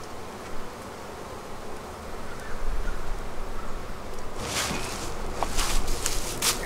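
Honey bees buzz steadily around an open beehive during hive inspection, a dense close drone with a few scraping and handling sounds on top.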